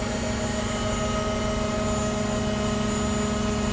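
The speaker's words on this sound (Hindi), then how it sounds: "देखते रहिए बूम निकालते हैं" A 130-ton mobile crane runs its engine and hydraulics to extend the boom, giving a steady, loud, droning hum with a constant whine throughout and no voices.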